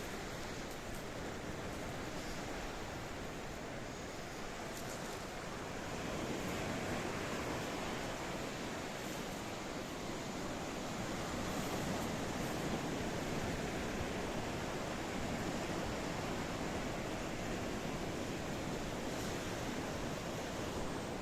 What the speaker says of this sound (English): This is the blue Mediterranean Sea. It is a licking and it is a lapping the downtown coastline